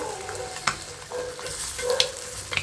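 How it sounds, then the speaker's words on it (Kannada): An egg fries in a pan with a bright, steady sizzle, broken by several clear spatula scrapes and taps as it is turned, close up and without speech. "ಇವಾಗ ತಿರ್ಗಿ ಹಾಕ್ಕೊಂಡು ಇನ್ನೊಂದು 2 ಮಿನಿಟ್ಸ್ ಮೊಟ್ಟೆನ ಬೇಯಿಸ್ಕೊಂಡ್ರೆ ರೆಡಿ ಆಗುತ್ತೆ"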